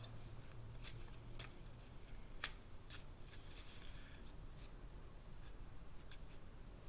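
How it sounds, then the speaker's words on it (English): Quiet, scattered crisp card flicks and soft riffling, a few sharper snaps standing out against a low background hum, no voices. "A couple more shuffles."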